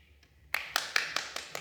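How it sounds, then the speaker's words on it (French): Hands clapping at a clown theatre performance, six sharp, evenly spaced claps after a quiet start, close and fairly loud, no talking. "Il applaudit de plus en plus."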